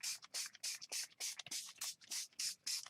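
A Tattered Angels Royal Peacock spray bottle is shaken hard in a steady rhythm of about a dozen quick rattling, hissing strokes, close up, with no talking.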